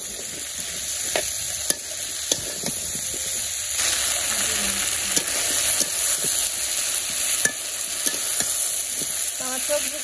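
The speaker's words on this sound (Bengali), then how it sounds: "আমার সবজি কষানো হয়ে গেছে" Vegetables stir-fry in a pan over a village cooking fire, a steady bright sizzle running throughout with frequent sharp clicks and scrapes of a spatula stirring against the metal, close and fairly loud.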